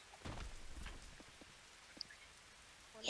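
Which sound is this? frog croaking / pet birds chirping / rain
rain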